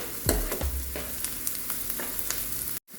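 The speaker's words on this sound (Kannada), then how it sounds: "ಕ್ಯಾರೆಟ್ ಹಾಕೊಂಡು ಚೆಂದಾಗೆ ಮಿಕ್ಸ್ ಮಾಡ್ಕೋಬೇಕು" A spoon stirs carrots into a pasta mixture frying in a pan, giving a steady sizzle broken by several scraping stirring knocks, close and without talk.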